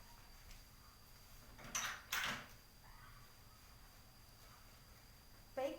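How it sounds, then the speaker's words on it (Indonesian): A door and a curtain being closed in a quiet room: two short broadband bursts a fraction of a second apart, like a slide and a shut, then a faint brief knock near the end, with no talking. "saya izin untuk menutup pintu dan tirai terlebih dahulu ya Bu"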